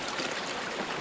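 Spring water trickles out from under a rock at the foot of a mountain in a rural province, giving a soft, continuous burble with a steady close-up wash and no voices.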